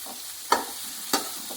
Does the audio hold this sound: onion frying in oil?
yes